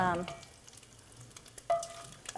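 Bacon sizzling and frying in a pan while cooking venison chili, a steady crackle with brief stirring scrapes near the start and again toward the end, close and moderately loud.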